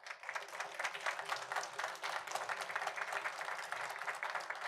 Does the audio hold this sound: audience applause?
yes